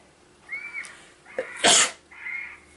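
A single sharp, loud human sneeze in a quiet room, preceded by a couple of soft breathy inhales and followed by a quiet exhaled sound.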